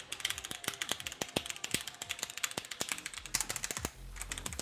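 Close, crisp typing on a Roccat Vulcan 122 AIMO keyboard with Titan tactile switches: rapid, uneven clacking keystrokes with a sharp punch, alone in a quiet room.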